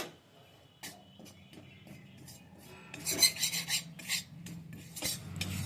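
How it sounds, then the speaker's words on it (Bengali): A spatula rasps and scrapes against a dry pan in quick, irregular strokes while dry-roasting gram flour, growing busier and louder toward the end. "এই বেসনটা আমি হালকা করে ভেজে নেব"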